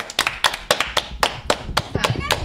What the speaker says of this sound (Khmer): តោះឥឡូវសូមទះដៃជូនកញ្ញា Oyster